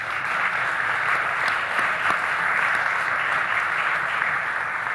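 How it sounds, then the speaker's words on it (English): An audience at a GOP Senate debate applauds five candidates, a steady, sustained wash of clapping from many hands at a uniform level with no one speaking over it. "let's give all five candidates a round of applause"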